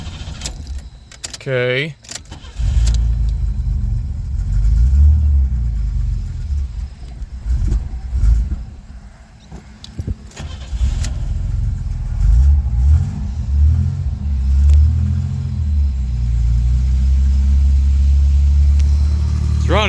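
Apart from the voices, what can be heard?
1984 Chevy Citation engine starting and idling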